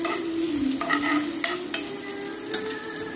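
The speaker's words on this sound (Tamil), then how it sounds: "நறுக்கிய வெங்காயத்தை இட்டு" Chopped onions sizzle in hot sesame oil with mustard seeds in a pan over medium heat for an onion-tomato thokku, a steady close frying hiss broken by several sharp stirring scrapes, with no voices.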